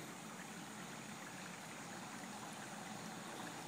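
Flood water pumped out by a sump pump through a hose into a yard makes a steady, faint broadband rush, even and continuous with no voices.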